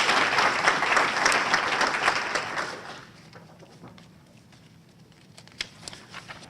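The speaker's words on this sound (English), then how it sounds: "we'll applaud for Robin in any case" A crowd at a writing awards ceremony breaks into loud applause that fades after a few seconds, leaving a few scattered claps and light room noise.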